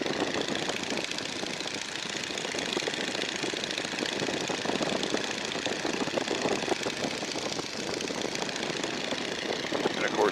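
A Stearman N2S-3 biplane engine drones loudly and steadily in flight, a dense, unbroken roar filling the whole stretch with no letup.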